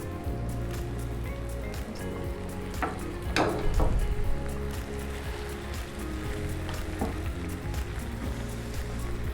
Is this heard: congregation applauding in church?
no